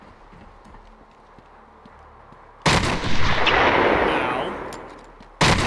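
Enemy gunfire in the Batman: Arkham Asylum video game comes as a loud sudden burst of shots that swells and fades over a few seconds, then a second burst starts. A voice cries out briefly beforehand.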